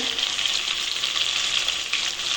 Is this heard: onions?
yes